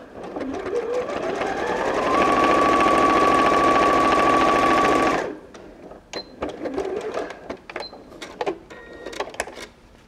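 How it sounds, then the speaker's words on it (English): Sewing machine stitching along one short edge of two fabrics laid right sides together over a layer of wadding, a loud steady whirring run of about five seconds, then stopping, followed by scattered clicks and handling noises. "I'm placing my right sides together fabrics over a layer of wadding and just stitching along one short edge"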